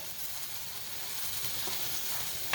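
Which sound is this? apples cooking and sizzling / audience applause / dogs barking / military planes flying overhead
apples cooking and sizzling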